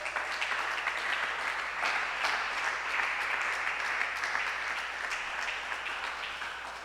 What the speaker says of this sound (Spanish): ¿Cuánto le da un aplauso al Señor?